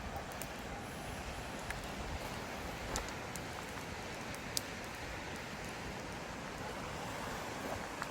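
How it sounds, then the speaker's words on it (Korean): A valley stream flows with a steady, even rush of water that stays constant throughout, with a few faint clicks on top and no voices. "계곡 앞에서 이렇게 물소리 들으면서"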